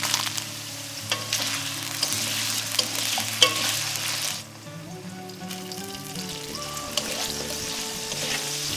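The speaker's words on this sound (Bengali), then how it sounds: "তেল থেকে ধোঁয়া উঠতে শুরু করলে আলুটা ভাজতে দিতে হবে।" Diced potatoes fry in smoking-hot mustard oil, giving a steady close sizzle and crackle with occasional stirring, under continuous background music.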